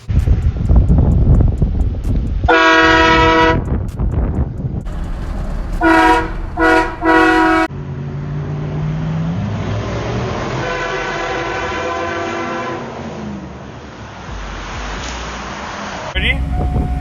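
A customized Chevrolet Silverado pickup truck sounds loud, train-like horn blasts in several bursts, followed by a long, echoing engine roar and rumble, as if in a tunnel.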